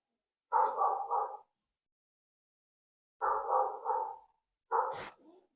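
A dog barks in three short bursts, each a cluster of rapid, fairly loud barks close by, separated by pauses of quiet.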